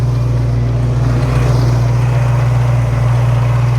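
A car engine idles steadily while the driver watches for overheating, giving a constant low hum with a strong droning tone, even and unbroken with no talk.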